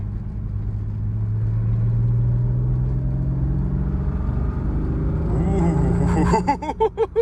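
A 1995 BMW M3's engine pulls steadily with rising pitch, loud and close from the cabin, then a gear change near the end breaks into choppy pulses.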